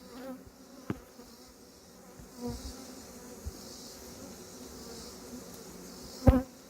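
Honeybees buzz steadily around an open beehive during a beekeeping inspection, a soft continuous insect hum with a few sharp clicks and knocks of handling, one louder near the end; no talking.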